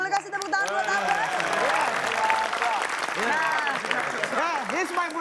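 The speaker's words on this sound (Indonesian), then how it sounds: "Boleh kasih tepuk tangan buat Abbas?" A studio audience applauds for a contestant named Abbas on a crossword quiz show, with clapping mixed with loud voices and cheering throughout.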